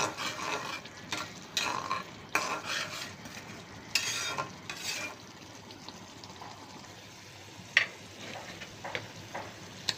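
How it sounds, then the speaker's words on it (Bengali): Spice masala fries with salt in a pan, giving a soft sizzle under intermittent stirring and scraping strokes that come in irregular bursts, with a few sharp clicks against the pan. "লবণ দিয়ে ভালো করে মশলাটা কষিয়ে নিব"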